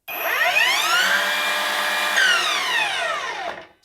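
A cordless Ryobi-type R255 miter saw spins its blade with no workpiece, a close motor whine that winds up, holds steady and then spins down to silence.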